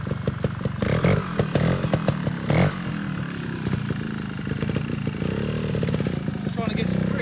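A trials dirt bike engine revs hard in repeated sharp bursts as the rear wheel spins for grip on wooden poles, loud and close, with voices talking over the engine.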